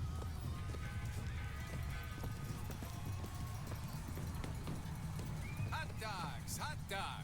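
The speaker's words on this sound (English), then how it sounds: "Equus Mechanical, the automatic stallion, the horse of the future, today." Rapid clip-clop of mechanical horse hooves in BioShock Infinite, with a clanking, mechanical edge, running steadily under a talking voice and a dense backdrop.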